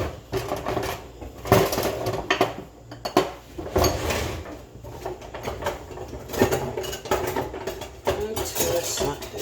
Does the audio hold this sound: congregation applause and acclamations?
no